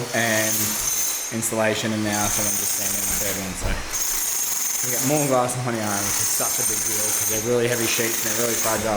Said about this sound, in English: Excuse the jackhammer noise.